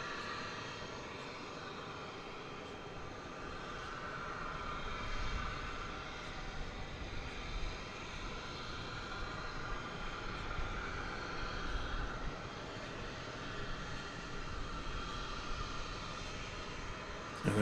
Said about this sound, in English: clear for takeoff 18 left for American 2279